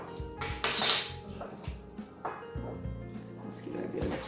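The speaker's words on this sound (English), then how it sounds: "Just give it a bit of a stir." A spoon stirs water and apple cider vinegar in a bowl, giving a run of close clinks and scrapes against the bowl alongside background sounds.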